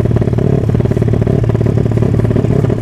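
A JDM-styled Tiger motorcycle fitted with two Matris stabilizers runs loud and close while riding, a steady throbbing rumble with a choppy, helicopter-like beat that holds without pause and no talking.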